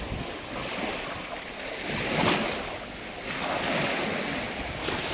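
Sea waves wash onto a sunny beach along a coast of white stone towns, a steady broadband surge that swells and recedes with a couple of stronger breaks, mixed with wind buffeting the microphone and no voices.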